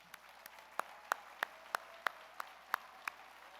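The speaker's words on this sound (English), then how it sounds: "Could you both stand up and we'll give you a big round of applause?" Sparse, scattered claps from a conference audience at an organizational psychology plenary, about a dozen distinct sharp hits at irregular intervals over a faint room hush, thin rather than a full ovation.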